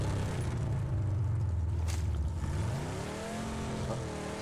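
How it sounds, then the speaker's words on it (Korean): Motorcycle engine in the video game PUBG, a low rumble swelling then easing off and rising again in pitch, moderately loud with brief higher clicks and bursts mixed in. "오토바이다."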